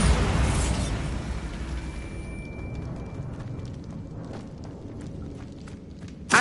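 A Bombarda spell blast in Hogwarts Legacy, set against bones stacked around an archway. A loud burst at the start trails off into a long rumbling decay of debris, and a sharp pop comes right at the end.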